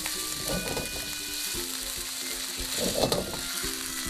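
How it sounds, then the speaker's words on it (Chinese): Diced chicken breast stir-fries in oil in a wok with a constant crackling sizzle, swelling twice as the pieces are tossed and scraped with a spatula, close and steady, with no voices. "锅中先倒油，把鸡丁炒熟，"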